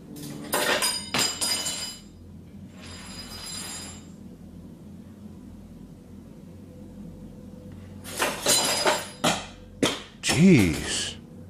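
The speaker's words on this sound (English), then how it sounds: "And even cutlery flies out of the shelves." Cutlery and metal utensils tumble out of kitchen shelves, with an early burst of clattering, then a louder run of sharp clinks and jangles near the end, close by and fairly loud.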